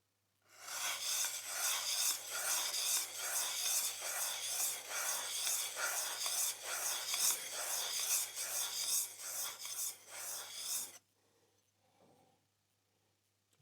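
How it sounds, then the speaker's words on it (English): A Stanley No.3 plane blade is lightly honed on a sharpening stone with rapid, rhythmic back-and-forth rasping strokes, close and continuous for about ten seconds, then stops. "we're just going to give it a bit of a light hone"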